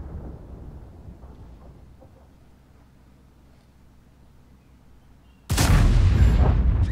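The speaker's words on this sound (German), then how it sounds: "Ich verpasse dem T22er Med eine 220er HE-Schelle." A single heavy cannon blast from an E100 tank firing a 220mm high-explosive shell in World of Tanks booms in loud and close after a stretch of quiet low ambience, its rumble sustaining to the end.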